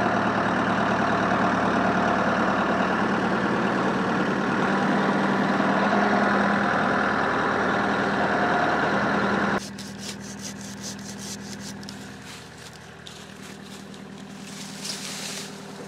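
A Bear Cat SC5540 chipper shredder engine runs at a steady, loud drone, then drops to a lower, rougher level partway through, with rapid ticking and clattering chatter over the motor and no voices.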